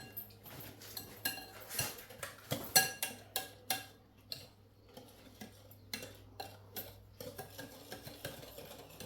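A spoon stirs half a plain yogurt into a batter in a bowl, making soft, repeated scraping strokes and light clinks against the dish, close and quiet with brief pauses.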